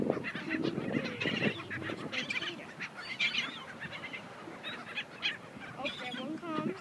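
Birds squawk and honk in a busy feeding frenzy over scattered salty chips, goose-like calls overlapping continuously at close range while people talk excitedly throughout.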